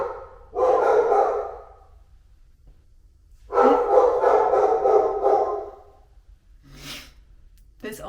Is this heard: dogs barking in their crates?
yes